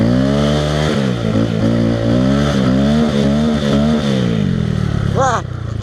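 A Honda Grom motorcycle engine revs hard and steadily while drifting on snow, its loud buzzing note rising and falling in pitch throughout, with a sharp upward rev near the end; no talk over it.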